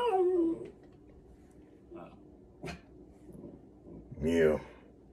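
A man imitates a dog with his voice, giving whimpering whines and a rising howl, close and fairly loud, with short quiet gaps between the bursts.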